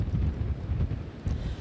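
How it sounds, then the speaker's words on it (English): Strong wind buffets the microphone at a Lake Pontchartrain lakefront during sleet, a steady low roaring rumble with gusty surges and no voices. "the conditions out here are extremely windy right now"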